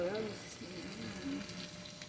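Barbecue chicken frying in oil in a kawali pan, a quiet steady sizzle and crackle heard close up, with a faint voice murmuring underneath.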